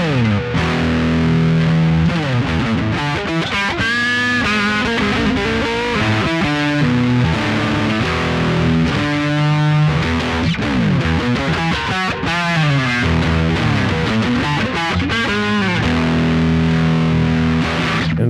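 A cheap, heavier electric guitar plays chords and riffs through an amplifier with distortion, loud and continuous, with ringing sustained notes and no voices.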